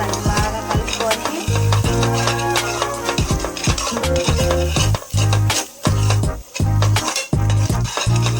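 Egg paneer masala curry is stirred in a pan with a metal spoon, giving repeated scraping and clinking strokes over a constant low sizzle, loud and close, with brief pauses between stirs.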